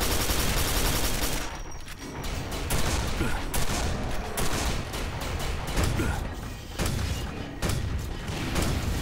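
Heavy cannon and minigun fire rages in the Quake 4 shooter, a loud, dense, continuous barrage of blasts and rattling bursts with only short dips.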